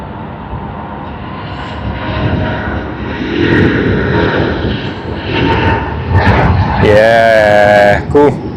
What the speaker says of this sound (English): Emirates A380 service to Christchurch